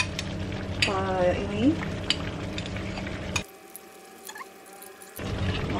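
A vegetarian lo mie broth made without meat or onions is stirred in a pan, with soft scraping and a gentle simmering sizzle. A voice speaks briefly, and the sound drops quieter for a moment near the end.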